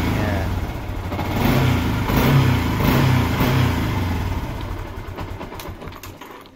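A Yamaha Sniper motorcycle with an error 96 fault kicked over with the kickstarter, its engine catching and running with a steady mid-pitched rumble that swells and then slowly fades, close by with no talking.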